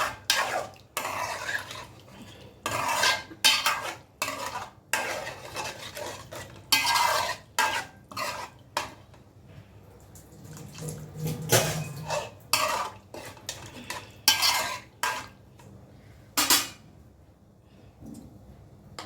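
Brinjal and potato curry is stirred in a pot after water is added, a spoon scraping and clinking against the metal in repeated irregular strokes, close and fairly loud, with a faint sizzle underneath and no talk.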